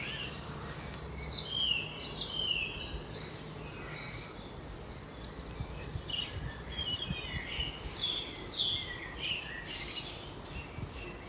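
Small birds chirp and tweet repeatedly in short, high calls over a faint, steady outdoor background, fairly quiet and with no voices.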